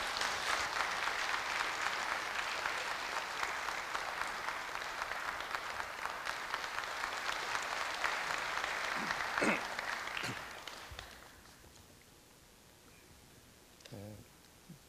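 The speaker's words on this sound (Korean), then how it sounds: "박수로 맞아주시기 바랍니다." Sustained audience applause fills a large hall at a Korea University anniversary ceremony, steady and dense for about ten seconds before tapering off, leaving a few scattered claps and a brief voice near the end.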